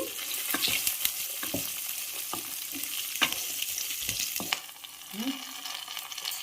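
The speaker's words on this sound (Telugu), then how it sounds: "ఇందులో పచ్చిమిర్చి వేసుకోవాలండి" Green chillies fry in a pan over a low flame for mint chutney, a fairly quiet crackling sizzle broken by sharp pops and stirring clinks, easing off near the end.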